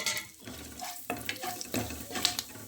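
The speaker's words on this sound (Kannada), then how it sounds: "ಈಗ ಇದಕ್ಕೆ ಈ ಮಸಾಲೆ ಪದಾರ್ಥಗಳೆಲ್ಲ ಹಾಕ್ಕೋಬೇಕು ಉರಿ ಸಣ್ಣ ಉರಿಲಿಟ್ಕೋಬೇಕು" Masala peanuts (Congress kadlekai) are stirred and fried in a pan over a low flame: continuous scraping and stirring over a soft sizzle, close and fairly loud, with no talking.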